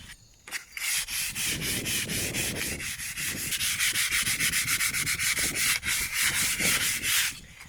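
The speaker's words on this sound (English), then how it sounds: "I'm going to sand all of the edges, round the corners off, and try to get this as smooth as I can" Hand sanding along the edges of a wooden epoxy resin table top, a loud close rasp repeating in quick back-and-forth strokes after a brief pause at the start, with no voices.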